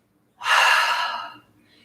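A single deep breath during a yoga leg workout, a loud airy inhale-exhale of about one second that fades out, with no talking.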